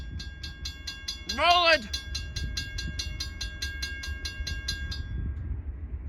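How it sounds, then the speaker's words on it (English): An eastbound Chicago, Fort Wayne and Eastern freight grain train passes in New Haven, Indiana, with a steady rhythmic clatter of wheel beats over a continuous low rumble; a person briefly speaks early on. "We have a train coming."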